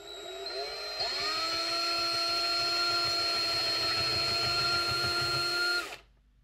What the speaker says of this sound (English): I've essentially just drilled through the plastic plate there